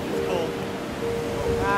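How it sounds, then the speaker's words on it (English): Rushing water pours steadily at Alameda Falls, a cold outdoor waterfall, giving a continuous broad roar with wind buffeting the microphone and faint voices in the background. "So we made it to Alameda Falls."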